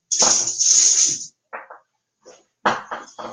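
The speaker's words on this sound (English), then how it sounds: "my dog is rummaging through a bag" A dog rummages through a bag indoors, making close, crinkly rustling bursts: a long scuffle, then a few short rustles after pauses, with no voices.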